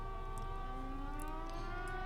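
Air raid sirens wail at a port in the naval video game Victory at Sea Pacific, with several overlapping steady tones holding faintly in the distance.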